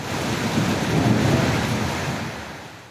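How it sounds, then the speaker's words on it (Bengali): A Kalbaishakhi thunderstorm with rain at midday in Dasar upazila, Madaripur, Bangladesh: a continuous roar of heavy rain and wind with a deep rumble swelling through the middle, heard alone without voices. "মাদারীপুরের ডাসার উপজেলায় দুপুর 12টার দিকে বৃষ্টির সাথে শুরু হয় কালবৈশাখী।"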